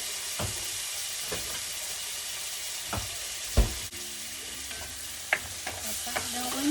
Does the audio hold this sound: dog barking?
no